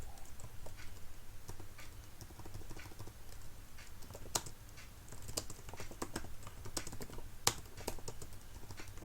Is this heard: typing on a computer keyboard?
yes